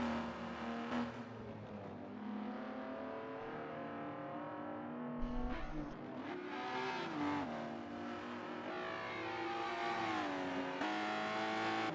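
Race car engines in a charity championship sim race at Maple Valley whine and rev continuously, with pitch climbing and dropping through gear changes and a brief thump partway through, loud and unbroken without talk.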